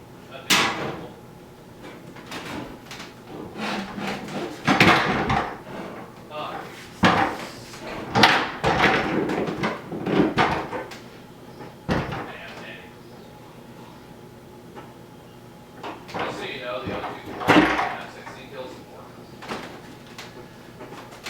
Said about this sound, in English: the closet doors were actually pretty easy to get off